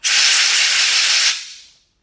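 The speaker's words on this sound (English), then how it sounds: "If you get your air compressor in there and just blast that out" A burst of compressed air from an air compressor blasts sawdust and oil debris out of a chainsaw. It gives a steady, loud hiss for over a second, then fades away to silence.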